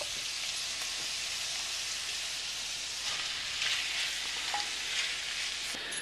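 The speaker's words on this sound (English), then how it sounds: "So now we can cook the bacon." Bacon sizzles and crackles steadily in a pan, a constant dense frying hiss with occasional small pops, heard alone without voices.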